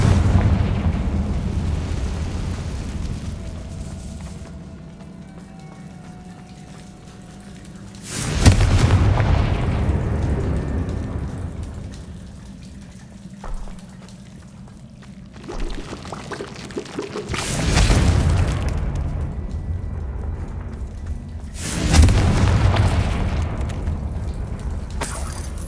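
Confringo fire spell explosions in the video game Hogwarts Legacy land as three loud booming blasts spaced several seconds apart, each one swelling and then fading into a low rumbling background.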